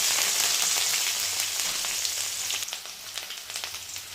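Crushed ginger fries in hot oil in a pan for kaara pongal, giving a steady close sizzle that thins into scattered crackles toward the end, with no voices.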